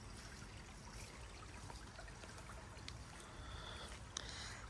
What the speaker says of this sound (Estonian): Vesi ojakeses puliseb